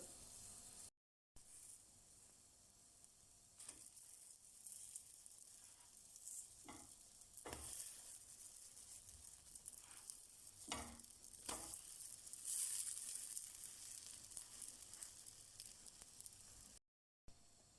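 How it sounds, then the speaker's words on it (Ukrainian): Batter for fritters with sausage and cheese fries in a pan over medium heat with a soft, continuous sizzle and crackle, punctuated by a few brief scrapes; quiet and steady throughout. "Смажимо на середньому вогні з обох сторін до золотистого кольору."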